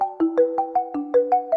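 A phone ringtone chirps in a steady pulsing pattern, about eight short tonal bursts in quick succession, close and clear with no talking.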